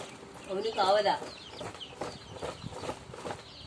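Chicks cluck and peep softly in a short, irregular run of calls, fairly faint and close, with a low human voice in the background.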